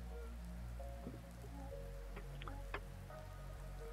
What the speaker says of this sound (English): Is it acid rain?